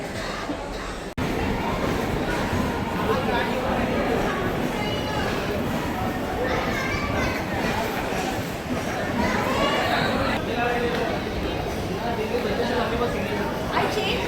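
Dense crowd hubbub fills a busy Dadar railway station in Mumbai, many overlapping voices and footsteps forming a steady, loud wash that starts abruptly after a brief quiet moment and continues throughout.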